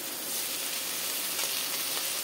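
Chopped pointed gourd (potol) fries in a pan, a dense, even sizzle filling the short stretch without pause, close and steady, no voices.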